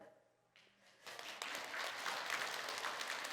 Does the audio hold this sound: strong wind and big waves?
no